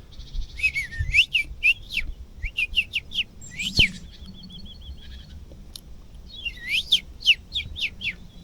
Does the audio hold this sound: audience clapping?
no